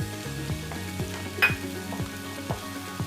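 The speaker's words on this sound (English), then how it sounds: "I will saute it well" Ginger garlic paste, cumin and coriander powder with salt sizzling and frying in a pan for a North Indian chole, with a steady close hiss, scattered stirring clinks and one brief louder scrape midway.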